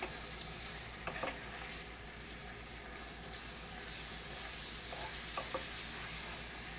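Ground beef browning in a pan for a hamburger rice pie, a steady low sizzle with a few scraping stirs of the utensil against the pan, close and fairly quiet.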